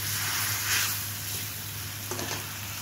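Tomatoes and spices frying in a pan over medium-low heat for an egg dal recipe, a steady soft sizzle with a brief stirring scrape near the end, close and unaccompanied by talk.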